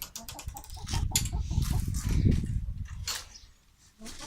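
Backyard hens give soft, close clucks and low murmuring calls in an irregular stream that fades briefly near the end.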